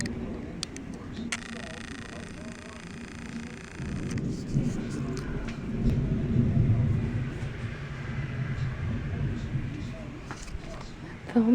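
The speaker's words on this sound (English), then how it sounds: "Thunderstorm." Low rolling thunder rumbles and swells in the distance, with a voice speaking faintly in the background.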